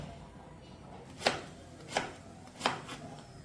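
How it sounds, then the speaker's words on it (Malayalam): Bottle gourd being chopped into small pieces with a knife on a board: three crisp, evenly spaced strikes over quiet kitchen background, close and moderately loud. "ചുരക്ക കഴുകി ചെറിയ കഷ്ണങ്ങളാക്കി മാറ്റിവെക്കാം"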